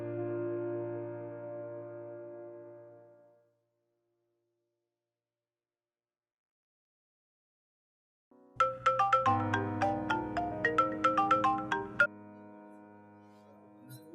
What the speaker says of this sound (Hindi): सैरिश, बेटा भाई को फोन करके कहो कि जूस ले आए।